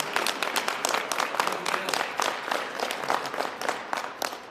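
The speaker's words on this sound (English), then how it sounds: "Give each other a round of applause." Audience at a New York City mayoral bill event applauding, a steady spatter of many hands clapping at moderate distance, fairly quiet and continuous throughout without speech.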